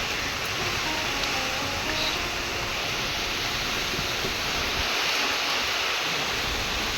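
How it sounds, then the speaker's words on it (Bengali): Morning rain falls with a light storm wind, a dense and steady rushing wash that stays even and close throughout. "এরকম হালকা ঝড় বৃষ্টি হলে খুব সুন্দর লাগে"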